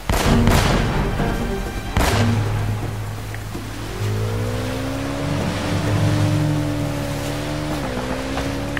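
Gunfire in Uncharted: Drake's Fortune aimed at a barrel, loud sharp shots at the start followed by a heavy boom, then a rumbling engine-like drone with rising and falling tones.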